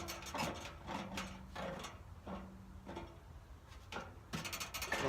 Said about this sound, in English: This one back here is a little bit wobbly, so I'll just loosen it a little bit.